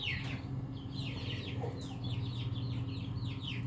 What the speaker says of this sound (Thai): เป็นไก่ พม่าที่มีเหลี่ยมมีแข้งนะครับ